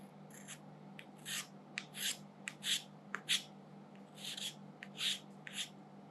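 Excess whipped cream scraped off a cake with a tool: a series of quiet, quick rasping strokes in an uneven rhythm over a faint steady hum.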